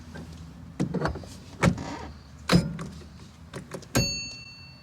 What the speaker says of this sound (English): It has a quick release steering wheel, so it comes off, goes back in